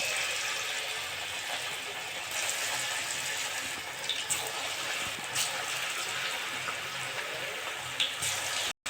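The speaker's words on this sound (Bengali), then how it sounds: "এবার পেঁয়াজি ভেজে নেব।" Onion pakoras (peyaji) fry in hot white oil in a kadai, giving a steady, close, rushing sizzle with a few brief spikes before it cuts off at the end.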